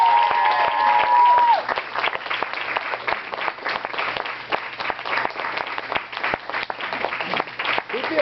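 A crowd at a roller derby awards event gives sustained applause, dense overlapping claps that carry on steadily, with a tonal whistle or feedback tone briefly at the start.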